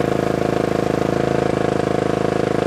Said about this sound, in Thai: นี่ครับรอบเครื่องยนต์รอบเครื่องยนต์นิ่งนะฮะนี่